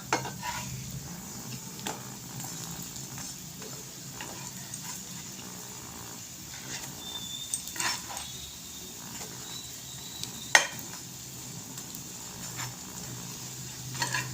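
Kalyana murungai (mullu murungai) roti frying in plenty of oil in a Chettinad kitchen and being flipped over. A steady sizzling hiss runs throughout, with occasional sharp clinks and scrapes of a utensil, and no one speaks.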